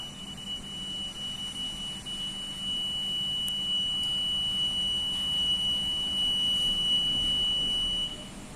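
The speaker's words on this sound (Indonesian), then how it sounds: "Seperti itu suaranya dari piezo buzzernya" A piezo buzzer on an embedded motion-detection device sounds a steady, continuous high-pitched tone for about eight seconds after movement is detected, heard alone over faint background hiss.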